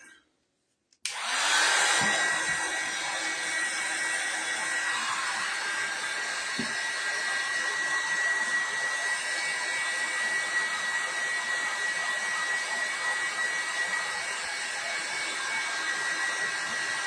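A hair dryer switches on after a brief quiet moment and runs steadily with a loud whooshing whine while drying paint, continuous and unchanging throughout.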